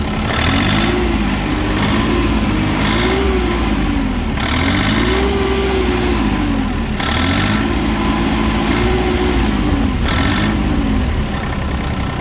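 A used Iseki TU245 mini tractor's engine runs steadily just after starting, a loud continuous diesel drone with a rhythmic, slightly rising and falling throb that repeats every couple of seconds, with no talking.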